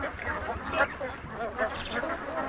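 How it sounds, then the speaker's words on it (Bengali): Pekin ducks of the Peking Star-13 (Beijing) breed quacking on a farm, several short nasal calls scattered across a steady background of low rumble, moderately close and fairly faint, with a murmur of voices in the mix. "হাঁসগুলো ফাইন ভাই, দেখেন কি সুন্দর হাঁস।"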